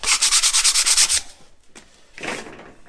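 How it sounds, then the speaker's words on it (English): A half-inch bit countersinks a metal rib part for a Zenith 701 experimental airplane, giving a rapid run of rhythmic grinding strokes, then a pause and one shorter scrape, close and fairly loud. "This will be countersunk with a 1/2 inch bit on the back side."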